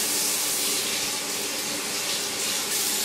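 Water from a bathroom sink pours steadily over a person's head, a loud, continuous broadband hiss and splash that stays close and even throughout with no talking.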